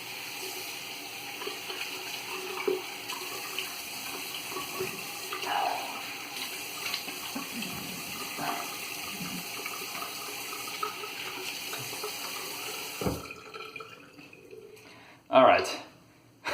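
Tap water runs steadily into a sink to rinse a shaving brush, with a continuous close splashing stream and light clatter. The flow stops near the end, followed by a brief handling knock.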